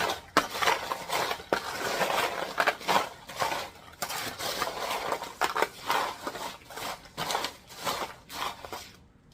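Homemade treat ingredients being mixed in a bowl, a close, irregular series of scraping, crunching and rattling strokes that continues steadily.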